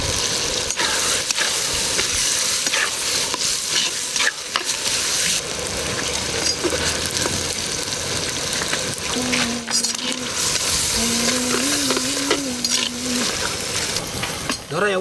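Tomato and curry leaves sizzle steadily in a hot pan while being stirred, with continuous frying crackle and occasional utensil scrapes, brief talk under it, for a bottle gourd and prawn gravy.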